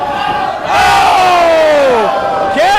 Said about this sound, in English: You hear this crowd getting behind the big Irishman.